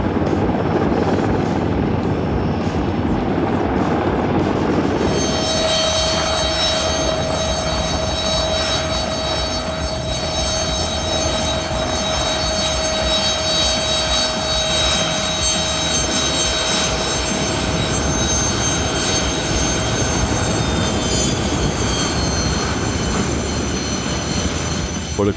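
An Mi-26 heavy transport helicopter in flight, heard from on board as a loud, constant rotor and turbine roar with a steady high whine that continues unbroken throughout.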